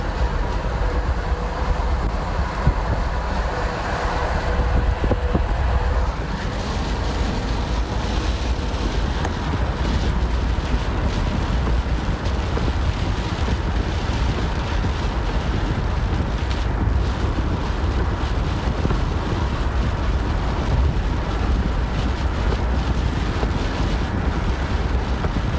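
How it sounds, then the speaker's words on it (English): A gust front drives strong wind through downtown Nashville ahead of a severe thunderstorm, and a constant roar of wind buffets the microphone the whole time. "Gust front just came through downtown."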